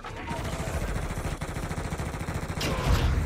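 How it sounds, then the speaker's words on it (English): Loud, rapid automatic gunfire in Warzone rattles in a steady close-range burst, ending in a heavier blast near the end; the sniper shots themselves are not distinct. "I'm getting sniped from somewhere"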